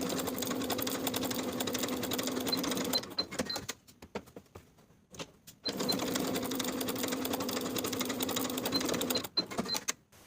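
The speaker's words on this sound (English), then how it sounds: "Then sew with a 1/2 inch seam allowance" Sewing machine stitching the shoulder seams of a dress bodice with a half-inch seam allowance, a steady close whirring run of about three seconds, a pause with faint handling, then a second longer run.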